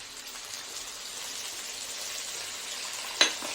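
Potatoes fry in a little oil with green chilli, whole cumin, garlic and tomato paste, giving a continuous close sizzle and crackle, with a single sharp clink near the end.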